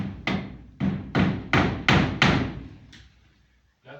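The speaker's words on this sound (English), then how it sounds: "now maybe I can now hammer it on the timber so that it can be stable" A steel hammer drives a bulb holder into timber in a series of about seven sharp, loud blows at a steady rhythm, then they fade, with a final soft knock.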